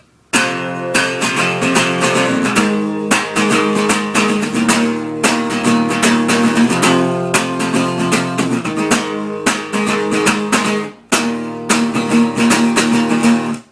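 An acoustic guitar plays the verse leading into the chorus of a song, with strummed chord patterns in repeated bursts separated by short gaps, close and fairly loud with no voice.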